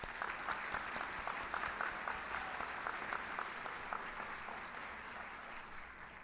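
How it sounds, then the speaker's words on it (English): An audience at a nursing pinning ceremony claps steadily for several seconds, the applause fairly distant and gradually thinning out. "Let's give our distinguished board a round of applause."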